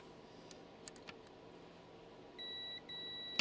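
A multimeter on continuity mode beeps while probing a vintage game console board: a steady electronic tone sounds twice in close succession near the end, after a few faint clicks over quiet room noise.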